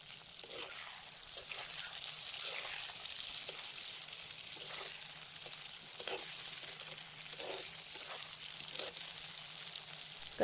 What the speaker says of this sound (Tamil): கத்திரிக்காய் நல்லா எண்ணெயில் வதங்கிருச்சு